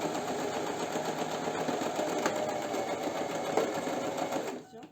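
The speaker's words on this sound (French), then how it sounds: "Je vais bien piquer et je vais poser mon pied presseur" A sewing machine stitching a cushion cover runs steadily at close range with a continuous whirring, rattling drone that stops abruptly at the end.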